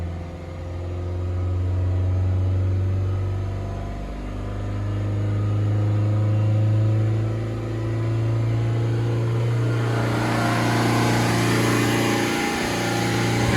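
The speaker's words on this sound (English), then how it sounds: "So it's increased the revs more." A Vauxhall Astra diesel engine running at raised revs during DPF regeneration, a steady droning hum with a brief dip, then rising brighter noise toward the end, close and continuous with no talk.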